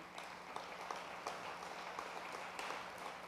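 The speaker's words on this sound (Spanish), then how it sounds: "Denle fuerte el aplauso al Señor." Church congregation clapping steadily throughout, a dense, continuous wash of applause with scattered sharper claps standing out, moderately loud and filling the room without voices.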